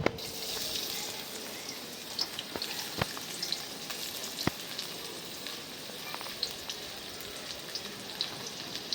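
Chopped onions frying in oil left from frying fish, a steady dense sizzle with scattered crackles and pops throughout, fairly quiet and with no voices.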